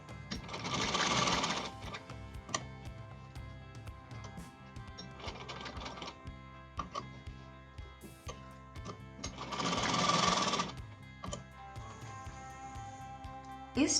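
A sewing machine stitches a fabric strip onto the side slit of a kurti, running in three bursts of rapid mechanical whirring separated by quieter pauses with small clicks and handling sounds, all close by.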